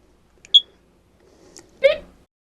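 A fire alarm gives a single short, high chirp, the kind it makes when its battery is low. A brief vocal sound follows a moment later in an otherwise quiet room.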